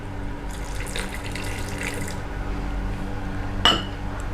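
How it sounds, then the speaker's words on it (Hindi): Water poured into a pan of frying masala with chopped tomatoes while cooking mutter paneer, a soft trickling splash over a low steady hum, ending with a sharp clink. "थोड़ा पानी और ऐड करेंगे।"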